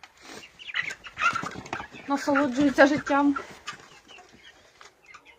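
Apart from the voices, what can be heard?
chickens clucking in a greenhouse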